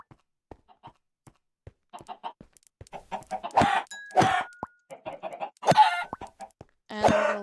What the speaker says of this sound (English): Tired of the clucking.